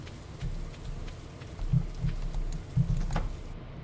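Rain in Stardew Valley, a steady soft patter with a few low thudding drops, fairly quiet and unaccompanied by talk.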